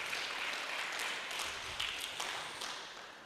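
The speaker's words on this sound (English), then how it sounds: "Please, let's clap for her." Audience applause at an award ceremony for innovative teachers, a steady wash of clapping that holds through the moment and tapers slightly toward the end, moderately distant and fairly soft.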